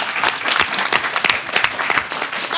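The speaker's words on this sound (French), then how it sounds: "On applaudit Mister Léon." Steady applause from a crowd, dense continuous clapping with no voices.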